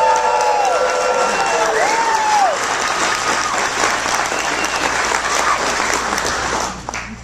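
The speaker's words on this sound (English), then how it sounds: "So we're going to do a vote by a round of applause." A live audience at a rap battle erupts in loud applause, cheers and whoops for a rapper, a dense roaring crowd with voices calling out at the start, fading slightly near the end.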